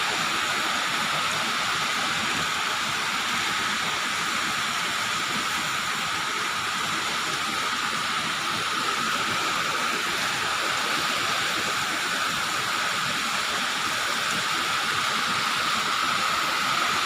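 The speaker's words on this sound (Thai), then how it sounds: "ฝนตกสุดยอดเลยตกหนักมาก" Heavy rain pours down steadily in a cool evening downpour, a dense, even hiss of water drumming on surfaces that stays loud and unbroken throughout, with no voices.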